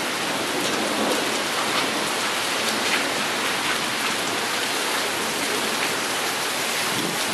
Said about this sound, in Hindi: माशाल्लाह से काफ़ी अच्छी बारिश हो रही है